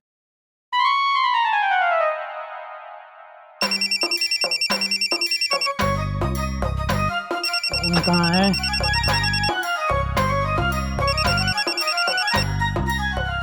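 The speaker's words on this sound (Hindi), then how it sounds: "मैं फिर से कॉल कर लेती हूँ।" A phone ringtone plays loudly during a call in a Hindi comedy sketch, a synthetic melodic tune looping on and on with rhythmic electronic beats while a voice briefly speaks over it.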